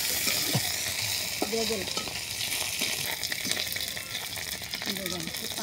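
Dried fish sizzles and crackles in a pan with steady, close frying hiss, broken by brief scraping stirs, while someone speaks briefly over it.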